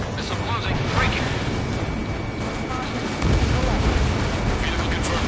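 Heavy explosion of a vehicle destroyed in the Ace Combat 7 jet combat game, a dense roaring boom that swells midway through continuous battle noise and engine rumble, with radio chatter voices running throughout.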